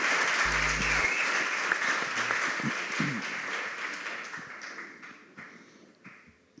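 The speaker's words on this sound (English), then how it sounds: "Please give them a round of applause." Audience applause for junior high school quiz contestants at a quarterfinal competition, a dense steady clapping from a crowd that gradually thins and fades toward the end.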